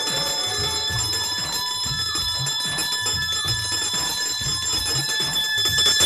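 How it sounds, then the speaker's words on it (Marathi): A bell rung before a stage play clangs continuously in a fast, steady ringing with sustained metallic overtones, loud and close. "पेटीतली नाटकाच्या आधी वाजवायची घंटा आहे"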